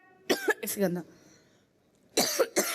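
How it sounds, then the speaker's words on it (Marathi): A person coughs in two short bursts, a harsh cough, a pause, then two more coughs, close up and fairly loud. "खोकला सर्दी"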